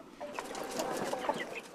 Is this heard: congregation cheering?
no